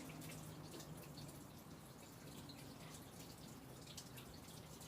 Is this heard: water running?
yes